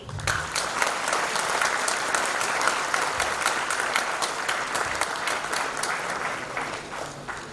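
An audience at a youth association's Saraswati honour ceremony breaks into sustained, dense applause, steady and fairly loud throughout without voices.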